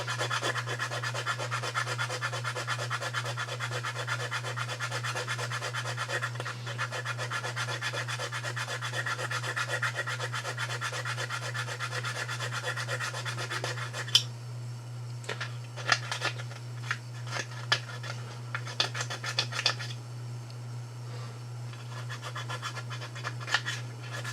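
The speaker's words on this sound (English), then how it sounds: "Just with some sandpaper. Make sure it's nice and flat." Sandpaper rubs over a star fighter model, first in continuous close scratchy strokes, then in separate short scrapes, all over a steady low electrical hum with no talking.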